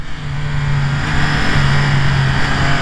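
Triumph Speed Triple 1200 RS motorcycle on track through a chicane, its engine howl rising and dipping in short bursts as the rider brakes and turns, heard close and loud over wind noise with no talking.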